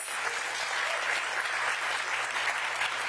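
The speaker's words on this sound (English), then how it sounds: "Please give them a round of applause." Steady audience applause fills a hall at an educator awards ceremony in DC, a dense, even patter of many hands lasting the full stretch, with no talk over it.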